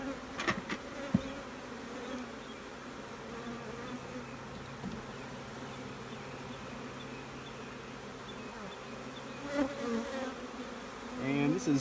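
A relocated honeybee swarm buzzes steadily around hive frames, a continuous droning hum with individual bees passing close, and a few knocks and scrapes as the frames are handled.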